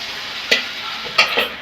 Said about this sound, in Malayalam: നമുക്ക് മാവ് അങ്ങോട്ടെ ഒഴിച്ച് കൊടുക്കാം